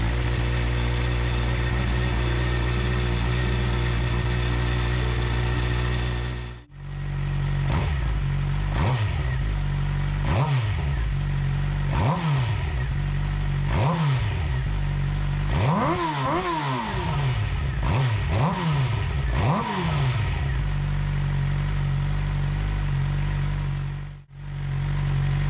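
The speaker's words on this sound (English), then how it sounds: "we run the bike to operating temperature" A Suzuki GSX-R600 sport bike engine runs to warm up, idling steadily and then revving in repeated short blips, loud and close, with brief cut-offs at start and end.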